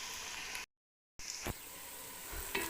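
Onions fry in a pan for chicken biryani with a soft, steady sizzle at close range, briefly cut out once. A couple of quick stirring scrapes break through the sizzle, and no one speaks.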